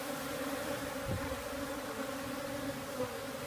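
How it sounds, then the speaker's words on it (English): A swarm of gentle, likely young honey bees clusters on a queen lure, producing a steady, dense droning hum that holds close and even throughout with no voices. "Nice and gentle bees, actually."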